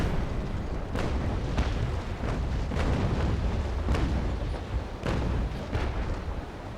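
A cannon broadside fires in a naval sailing-ship battle game: several heavy booms at uneven intervals over a loud, constant low rumble.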